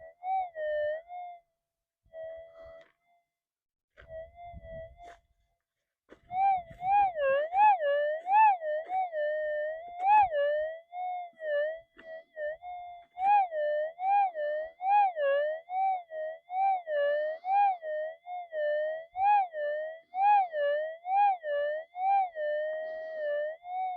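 A metal detector with a big modified coil sweeping over ground, giving a faint warbling, siren-like tone that wavers steadily after a few short broken beeps at the start.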